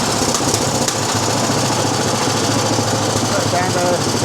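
A 6hp JAP petrol engine on a 1950 Clifford A3 walk-behind rotary cultivator runs loudly and steadily close by, with a rough, rattling drone that drowns out everything else.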